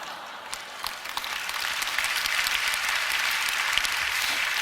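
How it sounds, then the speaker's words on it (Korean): A church audience at a prayer service claps steadily throughout, a dense, even patter of applause that swells slightly and holds at a moderate level. "웃으면서 박수 치는 게 안 믿어지는 것 같은데"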